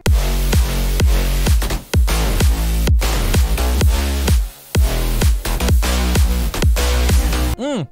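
A swingy future house loop of synth bass, brass stabs and drums, with loud kicks thumping at a steady beat under bright layered chords, briefly dropping out near the middle and ending on a pitch sweep.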